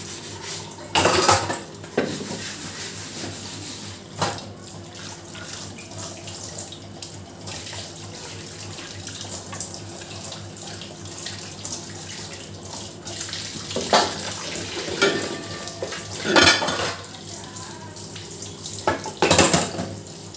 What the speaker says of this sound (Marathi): पोळपाट धुवायला होतं तर घासून घेते.